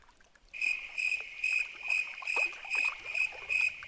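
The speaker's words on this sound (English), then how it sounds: "That's a cricket." A cricket at a pond chirps close and clear in a steady rhythm of shrill pulses, about two per second, against quiet surroundings.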